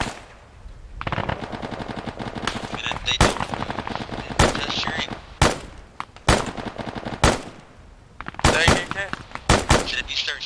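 Rapid bursts of gunfire from the Arma combat game around a church, loud volleys and single shots broken up by gaps, with players talking over the shooting.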